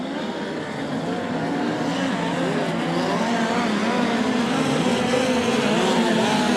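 Speedcars race around the Murray Bridge track at the SA Speedcar Championship, several engines whining and rising and falling in pitch as they lap, a steady loud overlapping drone.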